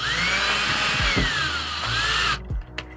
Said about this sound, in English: I'm going to screw the plate into the wall.